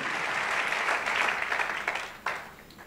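A church congregation at a French-language sermon breaks into sustained applause, a dense, fairly close clapping wash that fades out before a final brief burst.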